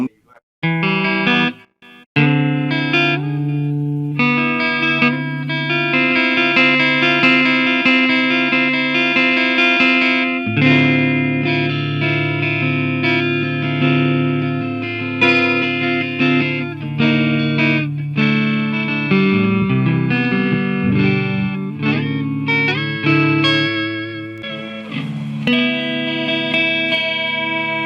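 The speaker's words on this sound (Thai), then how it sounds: "มันมีเสียงดีเลย์อยู่นี้เราใช้โมดูลเลชันตัวนี้" An electric guitar plays chords and melodic lines drenched in echoing delay repeats and a shimmering, wavering modulation, loud and continuous with brief pauses at the start.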